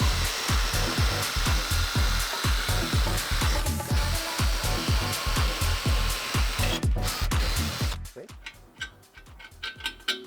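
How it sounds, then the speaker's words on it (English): A power drill bores holes into a scooter part in a barn-find restoration, its loud whirring cut by rapid grinding pulses for about eight seconds before it stops and a few clattering handling knocks follow. "drill the hole this time."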